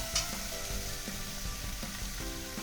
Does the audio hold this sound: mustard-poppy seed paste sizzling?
yes